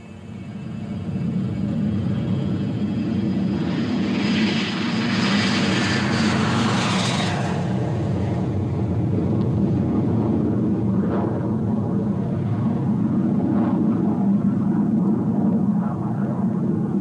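An Avro Arrow jet engine roars loudly and steadily, its rushing noise swelling as the aircraft powers up and gets under way for takeoff.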